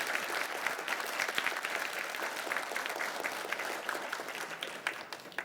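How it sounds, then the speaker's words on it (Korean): Steady audience applause fills a Korean education office's annual plan briefing, a dense, even wash of clapping from a large crowd that holds for several seconds with no speech. "2배 더 큰 박수 좀"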